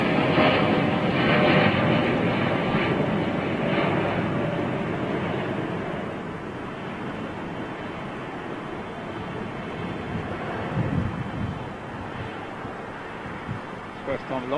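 A Boeing Dreamliner at London Heathrow Airport gives off a loud, broad jet roar that slowly fades, with wind buffeting the microphone.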